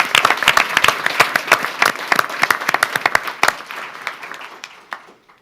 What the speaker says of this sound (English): But a big hand of applause.